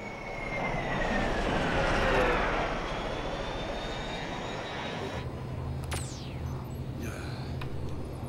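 Fixed-wing airplane engine in an animated action cartoon, a steady loud drone that swells and fades over the first few seconds, joined by whooshing effects and a low hum later on.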